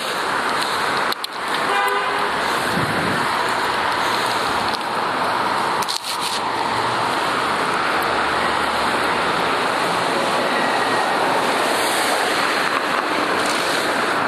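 Steady roaring wind noise buffets a moving bicycle rider on Yonge Street, Toronto, in March, broad and constant, with brief sharp thumps and a faint whine in the background.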